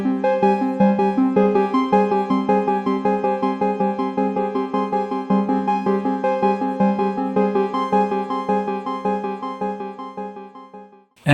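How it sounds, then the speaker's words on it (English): Soloed arpeggiator sequence from an Elektron Digitone synthesizer: a rapid, even run of plucky pitched notes with rich harmonics, steady throughout and slowly fading, alone with no voices. "And that's the arpeggiator."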